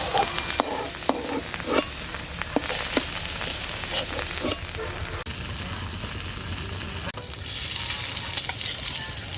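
Pieces of ash gourd frying in ghee, a continuous close sizzle broken by repeated scraping stirs early on, then a steadier hiss.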